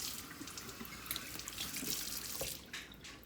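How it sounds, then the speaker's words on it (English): Water runs from a faucet into a sink while a cast iron pan is washed with a dish rag and soap. The splashing rush is continuous and soft. "I'm just cleaning this right now with a dish rag and soap per Tyler's instructions."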